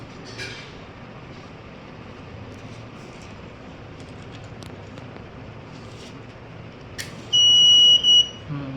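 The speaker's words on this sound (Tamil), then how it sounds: "பஸர் எனக்கு அலாரம் அடிக்க ஆரம்பிக்கும்" After a quiet stretch of low background noise, a flame-sensor fire alarm buzzer blares one loud, shrill electronic tone for about a second, then cuts off.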